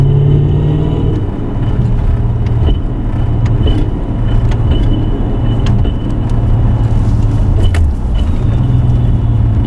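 From a BMW E39 M5, a low drivetrain drone from the drive shaft or differential hums steadily as the car moves, with loud road rumble underneath and the pitch stepping slightly up and down with speed.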